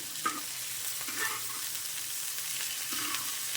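Beef frying in its own fat on a tawa without oil, a soft, steady sizzle with faint stirring scrapes and light clinks, fairly quiet and alone.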